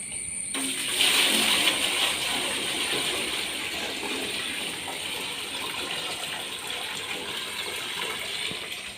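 Water gushes steadily into a fish tank during cleaning, a continuous close rushing pour that begins abruptly after a brief pause and holds at an even level throughout.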